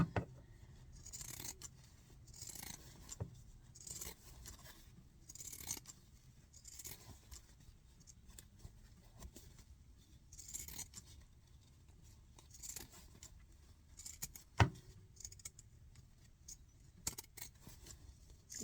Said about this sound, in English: we're going to go ahead and trim this down with our pinking shears again